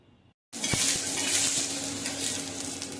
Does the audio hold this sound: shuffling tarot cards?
no